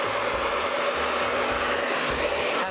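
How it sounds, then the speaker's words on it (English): Ordinary hair dryer blowing continuously on a damp Labrador after its wash, a steady, loud, close-up whooshing roar with a low motor hum and no talking. "I'm using a normal hair dryer."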